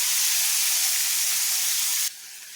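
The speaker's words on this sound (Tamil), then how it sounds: "தக்காளியை சேர்த்து வதக்குவோம். தக்காளி நல்லா வதங்கட்டும்." Tomatoes sautéing in a pan for a healthy breakfast dish, giving a loud, steady broadband sizzle and hiss that runs on unbroken, then drops abruptly to a softer level near the end; no talking.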